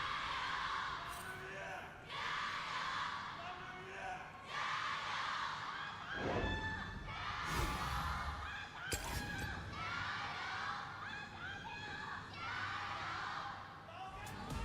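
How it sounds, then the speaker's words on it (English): An esports arena crowd at an LPL match between Team WE and Rogue Warriors chants and cheers in loud rhythmic bursts that rise and fall, with voices talking over the din. "The crowd got excited. Now they're just chanting to a sepia screen."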